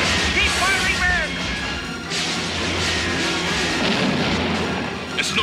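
Loud animated-series battle gunfire and blasts from RoboCop: The Animated Series fill the whole stretch as a dense, continuous barrage, with shouted voices over the din.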